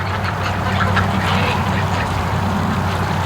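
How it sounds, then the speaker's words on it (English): Muscovy ducks quack in a close, busy flurry of overlapping calls over a steady low background hum. "But there's the duckies coming up."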